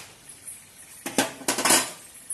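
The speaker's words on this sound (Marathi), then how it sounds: "आपण आता हे मटण हलवून घेऊया मस्तपैकी।" Mutton being stirred into masala in a metal pan to make a dry mutton dish, with a spoon giving a few quick close clinks and scrapes against the pan over a quiet background and no talking.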